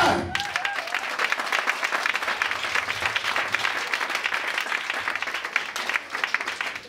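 A church congregation breaks into sustained, dense applause, loud and steady for several seconds, with a few voices mixed into the clapping.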